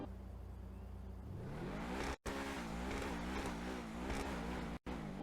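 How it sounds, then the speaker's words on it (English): The Truffade Thrax supercar in GTA Online revs hard, its engine note sweeping up and down in loud wavering pulses, cut by two brief silent gaps. "kind of sounds like any other Truffade car in the game really"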